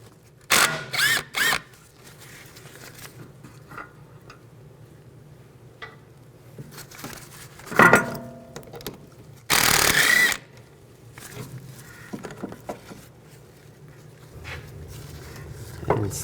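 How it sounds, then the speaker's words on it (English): A 14mm socket ratchet works loose brake bracket bolts on a 2004-2008 Nissan Maxima, giving scattered clicking ratchet bursts and clanks up close, with a louder buzzing burst midway amid quiet workshop background. "Take a 14mm socket. Take these two bolts out."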